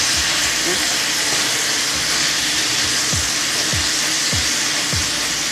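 Steam hisses loudly and continuously from asparagus cooking in a hot stovetop pan after water is added, a dense close sizzle with faint intermittent low thumps underneath.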